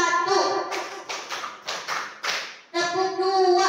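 Single sharp hand claps struck one after another in a classroom-style clapping pattern, a series of about five distinct taps in a steady rhythm, with a voice speaking before and after them.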